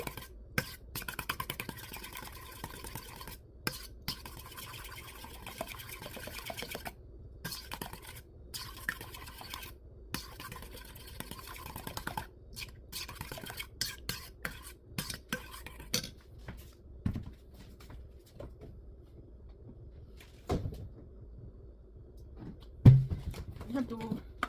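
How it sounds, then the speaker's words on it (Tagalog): Whisking a leche flan mixture of eggs in a bowl: steady scraping and clinking of a utensil against the bowl runs through most of the clip, close and moderately loud, thinning out toward the end. "So, you have to mix it well."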